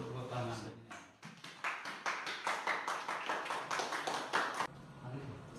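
A steady run of quick clapping plays for a few seconds at a school event, bracketed by muffled talk before and after.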